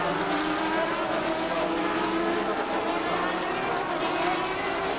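Sports prototype race cars racing at Mondello Park during a 2001 FIA Sportscar Championship round, a steady loud roar of engines passing continuously with no break.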